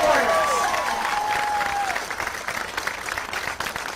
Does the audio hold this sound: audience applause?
yes